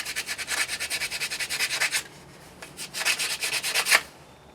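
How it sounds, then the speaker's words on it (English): A part of an MSR Whisperlite stove is sanded by hand in quick, rhythmic back-and-forth rasping strokes, loud and close, with a short pause midway before a second burst of scrubbing. No talking. "just sand this guy down right here"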